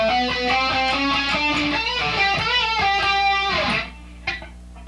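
Electric guitar plays a passage from a solo, fast picked repeated notes and bends with a bright, driven tone, loud and solo, then stops abruptly with one short pluck afterward.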